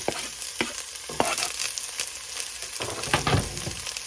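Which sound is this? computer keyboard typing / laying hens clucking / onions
onions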